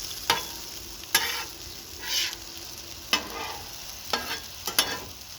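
Tortellini and mushrooms fry on an outdoor griddle at night, with a soft sizzle underneath and several sharp scraping strokes of a spatula spaced a second or so apart.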